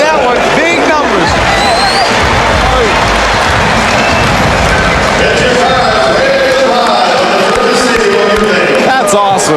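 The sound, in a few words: basketball crowd responding to Steve Francis dunk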